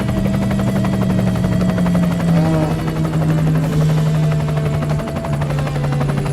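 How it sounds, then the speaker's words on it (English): A helicopter flies overhead with a loud, steady rotor thump and engine drone that fills the whole stretch and wavers slightly in pitch as it passes. "Will you hear a helicopter?"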